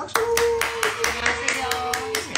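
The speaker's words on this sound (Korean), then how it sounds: "박수!" A small audience at a live book talk claps to welcome a translator, about nine distinct sharp claps in a loose rhythm, close and fairly loud, with a faint sustained tone underneath.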